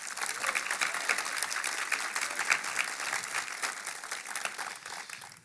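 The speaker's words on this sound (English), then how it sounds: "One more round of applause." Steady applause from an audience at a commemorative postage stamp first-day-of-issue ceremony, dense clapping holding at an even level throughout and tapering slightly at the end.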